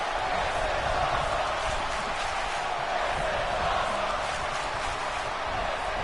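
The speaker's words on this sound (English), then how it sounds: "The crowd going wild, saying that this is awesome" A crowd in the wrestling video game WWE 2K18 roars and cheers as a steady, dense wash of noise that fills the whole clip without a break.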